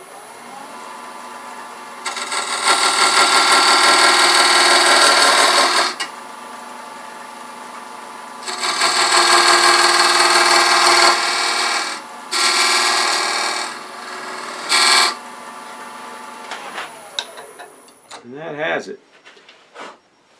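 A box scraper cuts into spinning wood on a lathe while hollowing a salt and pepper shaker, giving loud, steady scraping bursts of a few seconds each, followed by shorter cuts and pauses where the motor hum carries on.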